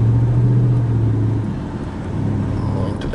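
A Dodge Ram 1500 4x4 pickup with a 4.7L V8 rumbling loudly up close, a deep steady engine drone that eases off slightly midway and then holds.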